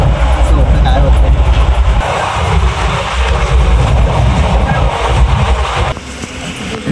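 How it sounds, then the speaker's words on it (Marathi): A train at Latur Road railway station gives a loud, steady rumble that carries throughout, easing slightly toward the end, with a faint murmur of voices mixed in. "मित्रांनो आम्ही आता लातूर रोड रेल्वे स्टेशनवर आलो आहे."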